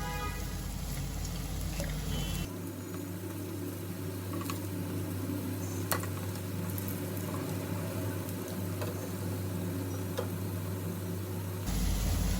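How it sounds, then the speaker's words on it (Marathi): Bhaji fritters deep-frying in hot oil over a medium flame, a steady close bubbling sizzle that runs unbroken for the whole stretch, with a faint hum of the kitchen underneath. "अशाच प्रकारे मी दोन्ही साईडनी चांगले लाल होस पर्यंत भज्यांना चांगला तळून घेते"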